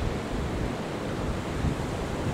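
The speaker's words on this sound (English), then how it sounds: "So they are anticipating waves over the breakwater." Sea waves surge against and over a harbour breakwater a couple of hours before high tide, a continuous broad roar mixed with wind buffeting the microphone, with no talk.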